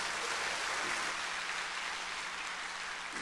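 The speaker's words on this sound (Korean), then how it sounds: "영광의 박수 한번 합시다" A church congregation gives a burst of applause, with broad, even clapping that sounds somewhat distant and holds steady for a few seconds.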